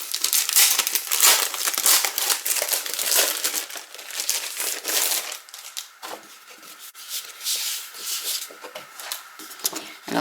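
Sheets of craft paper, some of it foil-finished, are handled and crinkled up close, with dense crackling and rubbing that comes in uneven bursts, louder at first, then easing into softer rustles.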